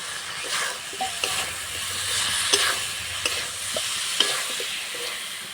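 Pointed gourd and spiced potatoes fry in a pan, a close steady sizzle broken by spatula scrapes and light taps against the metal every second or so; no voices.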